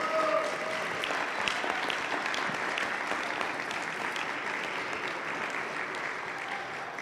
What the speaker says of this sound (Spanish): Quiero pedir un reconocimiento y un aplauso para este esfuerzo